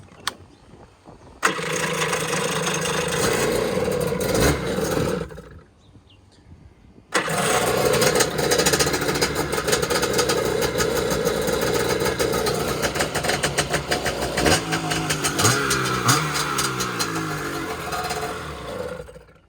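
A stand-up jet ski engine with an aftermarket pipe, a Kawasaki JS550 or Superjet, cranks and fires after a week of sitting, then runs loud and raspy at a steady idle and rev with brief pauses, no talk.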